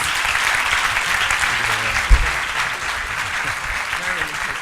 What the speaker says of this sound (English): let's give last applause for Prof This